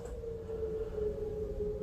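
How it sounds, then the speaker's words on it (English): A steady, distant tornado warning siren holds one sustained wailing tone over low background rumble, faint and continuous throughout. "Like you might hear these sirens right now, like I'm hearing the sirens on, you know, tornado watch"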